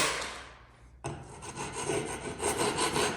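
A hand tool scrapes excess material off a painted room wall. After a brief pause, a close, rough, continuous rasping scrape runs in quick strokes, with no talking.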